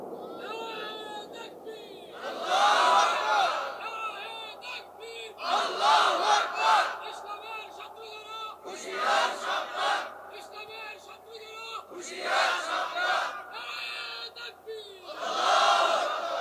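A large crowd at an outdoor Islamic sermon chants slogans in loud rhythmic bursts, answering a lead voice that calls out each line between the roars.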